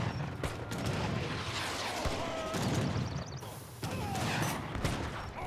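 Heavy cannons in the strategy game Age of Empires 3 fire in repeated booming shots among the clatter of battle, while a commentator talks over the action.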